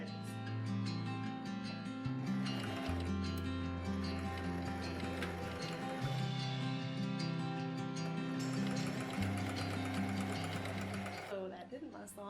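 A sewing machine stitches a sweater into a beanie with a fast, close, whirring mechanical run that briefly slows and changes pitch, continuing for most of the stretch before stopping near the end.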